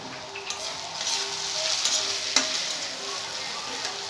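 Onions and ginger paste sautéing and sizzling in a pan for a jackfruit and prawn curry, a steady close frying hiss with stirring scrapes and a sharp clink near the middle.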